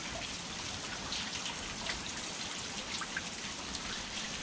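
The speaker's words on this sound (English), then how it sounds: "This rain's not going anywhere." Steady rain pours down on a fishing trip for mangrove jack on the Gold Coast, a dense continuous hiss of drops pattering on surfaces with no voices over it.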